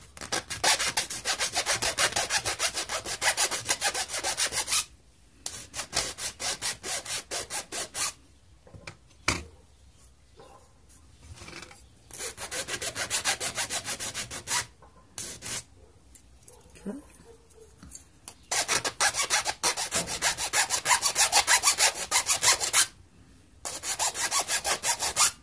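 A Fancy Feast can alcohol stove being deburred by hand, with repeated rasping, rubbing strokes in bursts separated by short pauses, close and fairly loud.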